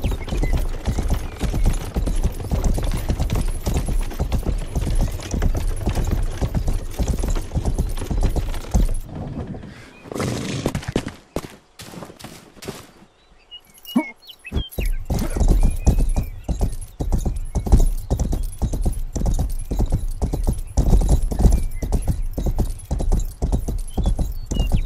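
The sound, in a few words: horse hooves clip-clopping in Rustler video game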